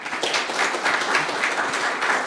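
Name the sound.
audience applause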